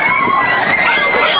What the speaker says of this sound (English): You hear them screaming?